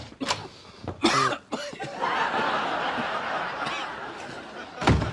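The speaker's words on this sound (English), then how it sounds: "It's a nasty cough you got there." Several coughs and throaty bursts, mixed with snickering and a dull thump, over a noisy background.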